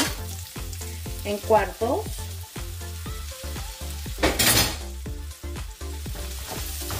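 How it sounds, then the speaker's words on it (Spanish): Onion cut in quarters frying in a pan for chicken alambre, a loud continuous sizzle with repeated stirring scrapes in a regular rhythm and a short burst of brighter hiss midway; a brief spoken phrase is heard. "Vamos a agregar la cebolla que ya tenemos cortada"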